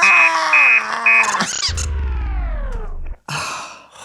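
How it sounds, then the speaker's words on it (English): A robot alarm clock sounds a loud electronic alarm: steady repeating beeps give way to bright sweeping synthetic tones and a deep buzzing drone, with a brief gap before a final burst. "Would you like to hear my alarm?"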